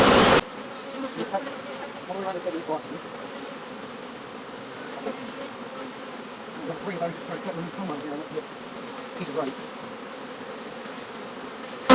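A healthy hive of agitated honeybees being opened up for a swarm rescue, their dense buzzing steady and close throughout, a continuous droning hum with no breaks.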